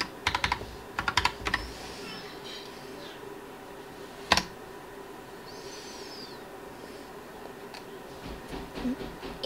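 Bursts of clicky typing on a Logitech Pop Keys wireless keyboard come in quick clusters at the start and near the end, with scattered single key presses and a sharp clack in between, over a faint room hum.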